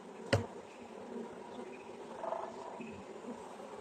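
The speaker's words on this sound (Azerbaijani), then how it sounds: "Anasız qalan koloniyalarda arılar başlayıb qanat çırpırlar." Honeybees fan their wings inside a queenless hive, making a faint, low, steady hum that briefly swells, with a sharp knock near the start.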